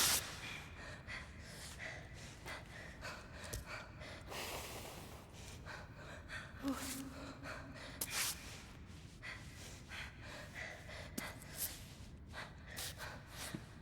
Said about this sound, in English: I can feel so her breathing increases